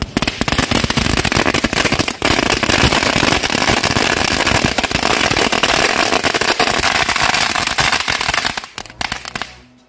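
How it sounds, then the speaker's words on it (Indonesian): A long string of Lebaran firecrackers crackles continuously in a dense, loud barrage of rapid pops, then cuts off abruptly near the end. "Selanjutnya kita nyalakan mercon panjang green lighting."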